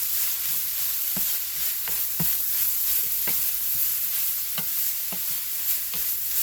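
Ground beef sizzling steadily in a frying pan while a utensil stirs it, with regular scraping knocks against the pan every second or so over the constant fry hiss.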